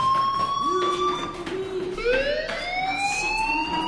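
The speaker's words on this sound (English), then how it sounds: "do you hear that fire alarm?" A fire alarm rings in the Life is Strange video game, a steady electronic alarm tone with rising sweeping harmonics that holds loud and continuous throughout, with no talking over it.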